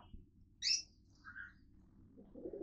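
A couple of brief, high pigeon chirps close by over a quiet, low background rumble.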